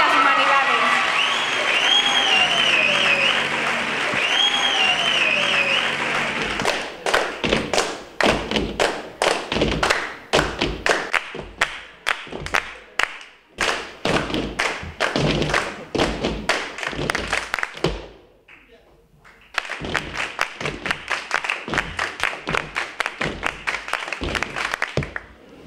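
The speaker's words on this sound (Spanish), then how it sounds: "Eso ha sido aplaudir con ritmo" After a moment of music or cheering, a school short-film festival audience claps in unison, sharp synchronized beats in a steady rhythm that briefly stops, then resumes and keeps going.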